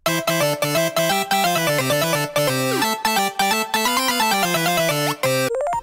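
A layered chiptune synth melody, stacked with three extra sounds and a xylophone-like tone, plays bright, busy phrases over a steady pulse with pitch slides, loud and continuous with no voices.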